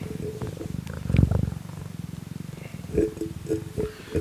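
A cat purring close by in a low, rhythmic rumble that pulses steadily throughout, with a louder swell near the start and voices speaking over it later.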